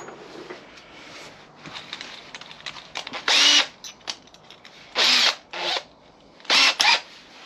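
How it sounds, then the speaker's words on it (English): An electric drill whirs in several short, loud bursts, stopping and starting as it bores up in sizes from a pilot hole in a trailer bar, with quieter handling noises between. "That drill's not very good."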